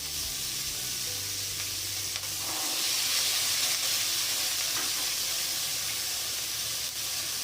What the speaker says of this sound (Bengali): এবার ভেজে নেব আমি ক্যাপসিকাম। হালকা করে ভেজে নেব।